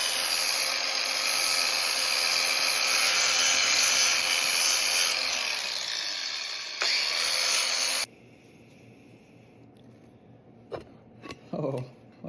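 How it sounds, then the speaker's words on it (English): An old hacksaw blade having its teeth ground off with a well-worn flap disc on an angle grinder, a loud harsh continuous grinding whine that cuts off abruptly, followed by quieter handling clatter. "grind the teeth off this old hacksaw blade with a nice and well wore out flapper disc"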